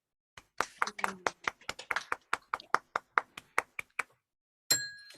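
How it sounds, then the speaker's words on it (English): Hands clap at a Shakespeare play-reading session, about eighteen sharp, crisp claps in a quick, even rhythm, followed by a short burst of noise at the end. "so clap hands for joy"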